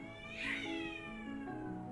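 A cat lets out a single drawn-out meow, rising and then trailing off, close by and clear with no voices over it.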